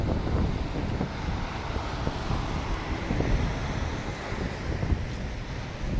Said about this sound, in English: Very windy down here. It's because I'm close to the water.